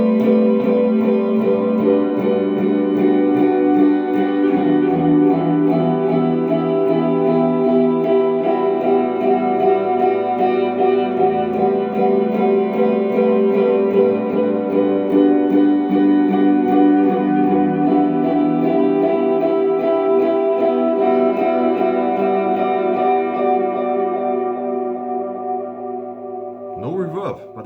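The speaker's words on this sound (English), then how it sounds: "I play now without reverb, but it sounds kind of reverb when you use two delays" Sustained electric guitar chords played through two delay effects with no reverb, layered repeating echoes blurring into a lush, reverb-like shoegaze wash, fading near the end.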